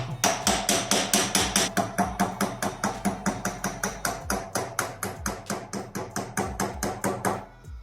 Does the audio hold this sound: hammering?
yes